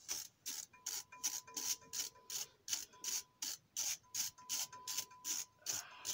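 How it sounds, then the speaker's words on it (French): A ratchet wrench loosening the EGR valve on a Mercedes A180 CDI A-Class, giving a steady run of rapid close clicking bursts in even rhythm with short pauses between strokes. "Bon, voilà, j'ai trouvé un autre cliquet. Et maintenant, je vais dévisser cette vanne."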